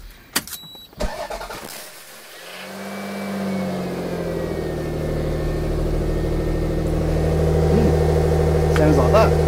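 A few clicks, then a standard Toyota MR2 sports car engine cranks and starts, settling into a loud, steady idle that slowly builds.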